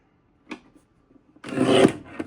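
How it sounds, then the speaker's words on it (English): Paper board being trimmed for a handmade 6x8 album: a quick scrape, then a louder rasping cut lasting about half a second, close and alone in a quiet room. "I want you to just trim that at 8."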